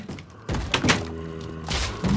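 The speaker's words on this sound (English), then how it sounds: "I gotta come back up here and close the doors" Doors thud shut in a blocky Minecraft Left 4 Dead-style zombie map, several muffled knocks and slams in quick succession, close by over steady game ambience.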